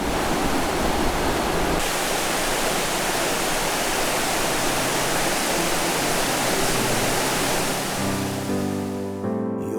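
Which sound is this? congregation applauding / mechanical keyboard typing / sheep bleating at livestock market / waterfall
waterfall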